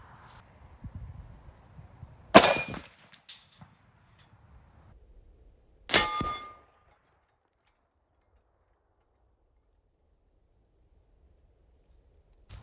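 Bullets from a .193 rifle with a 10.3 inch barrel striking a steel target, two sharp metallic rings a few seconds apart against a quiet background.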